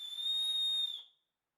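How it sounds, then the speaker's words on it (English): The built-in emergency whistle on a Petzl Actik Core headlamp gives one shrill, steady, piercing tone lasting about a second. It is loud and close, with nothing else heard. "There's a whistle, you know, in case you get lost"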